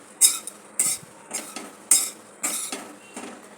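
Grated coconut is roasted in a hot pan and turned with two metal spoons, producing a rhythmic series of about six sharp clinks and scrapes against the pan.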